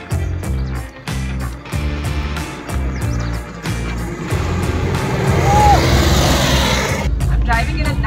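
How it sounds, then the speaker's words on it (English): A 1968 Volkswagen Combi bus driven through Bangalore streets, its engine chugging up close with rhythmic pulses that swell into a louder, rougher roar as it speeds up, while a person talks over it. "I'm driving in a 1968 Volkswagen Combi bus."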